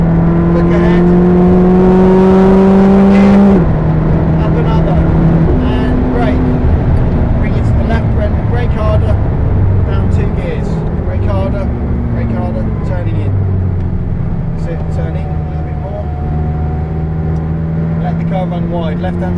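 A McLaren 620R's engine drones and climbs as it accelerates out wide on the Silverstone circuit, the sustained tone heard from inside the car beneath an instructor's steady coaching voice.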